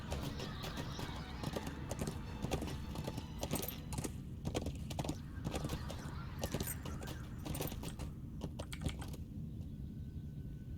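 Horse hooves clip-clop in a steady rhythm while riding in the video game Lord of the Rings Online, crisp and close, a continuous run of clicks that thins out near the end, with no talking.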